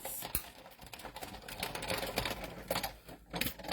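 A paper craft die-cutting machine runs with a steady mechanical whir and rapid clattering rhythm, fairly close and continuous, with a few sharp knocks and brief dips as the plate feeds through.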